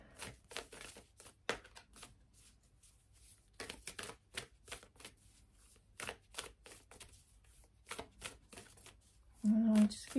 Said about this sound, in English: let's pull these some oracle cards here